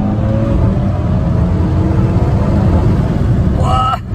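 Audi RS3 under a hard launch, a loud, dense engine roar heard from inside the cabin, sustained and steady for several seconds before a higher-pitched shift near the end.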